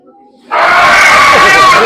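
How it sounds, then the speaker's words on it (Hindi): After a moment of near silence, a crowd of children bursts into loud, sustained screaming at an animatronic dinosaur at a Nainital attraction. The shrieking is close, dense and continuous. "अब मुझे लग रहा है कि एक चीख निकाली जाएगी"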